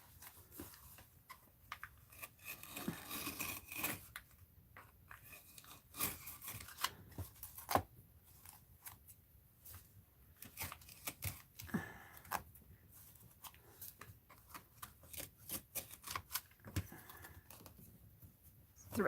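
Scissors cutting paper for a mixed-media paper bag art journal, a long run of close, irregular snips and paper rustles at a quiet level, with no talk.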